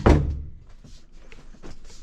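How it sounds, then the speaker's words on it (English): A single solid door thud at the start of a room in a house, followed by faint quiet shuffling and small movements. "So maybe we should shut the door to see"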